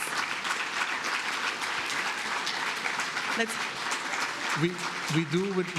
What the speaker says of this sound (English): please give a huge round of applause for our 2023 Employee of the Year nominees